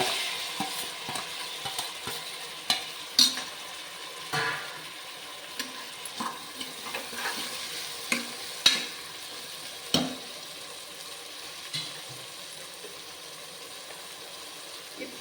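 Ginger garlic paste frying with green chillies and tomato for a vegetable kurma, a soft continuous sizzle with scattered sharp clicks and scrapes of stirring against the pan, no voices over it.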